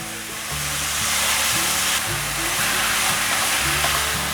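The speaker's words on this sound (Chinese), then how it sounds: "现在放入玉米笋，继续快速的拌炒。" Baby corn and mushrooms stir-fried in a wok give a steady, loud sizzle, with rhythmic scraping and tossing strokes recurring about every half second throughout.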